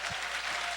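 A church congregation applauds, a dense wash of clapping at moderate volume that holds steady through a brief moment.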